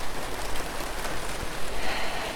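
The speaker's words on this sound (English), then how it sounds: "I don't want to sit under the rain blowing in." Storm rain blowing in, a loud, dense broadband rush of falling water and spatter with gusty swells, continuous and close, with no voices.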